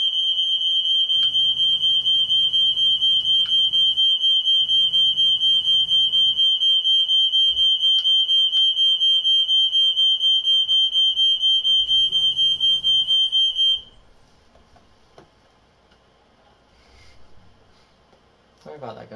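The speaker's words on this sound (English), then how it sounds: "And she triggered the fire alarm." A smoke-style fire alarm shrills steadily and loudly for about fourteen seconds in a Powerwash Simulator session, with short bursts of voice underneath before it abruptly stops.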